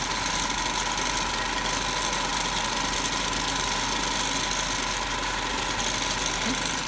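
A DC electrical machine runs at its rated 1500 rpm during a laboratory test, giving off a steady, continuous mechanical hum and whine with a constant tone throughout and no voices.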